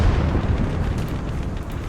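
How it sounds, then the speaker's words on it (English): Katyusha rocket artillery firing in a war video game, a continuous loud rumbling roar of launches and booms sustained throughout, dense and close with no talk. "That's another Katusha."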